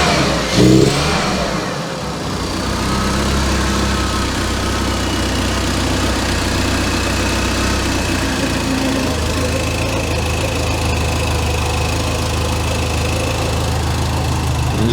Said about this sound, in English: It really doesn't idle that well. It really doesn't run that well.